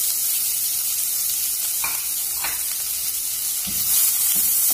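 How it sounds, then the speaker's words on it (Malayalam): A small chopped onion and a green chili sizzle steadily in a pan for vermicelli upma, with a continuous close hiss and a few soft stirring scrapes. "ഒരു ചെറിയൊരു സവോള എടുത്തിട്ടുണ്ട് അതും ഒരു പച്ചമുളകും കട്ട് കൂടി ഇതിലേക്ക് ചേർത്ത് കൊടുക്കുന്നുണ്ട്"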